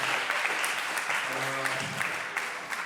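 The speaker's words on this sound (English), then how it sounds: "of applause for Andy, please." Audience applause for a speaker at a talk event, a thick wash of clapping that fades slightly toward the end, with a brief voice breaking through in the middle.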